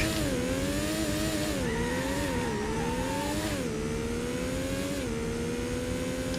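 A Porsche engine in Need for Speed: Porsche 2000 on PlayStation drones steadily at high revs. The pitch rises and dips as the car shifts through gears at racing speed, loud and continuous, with no talk.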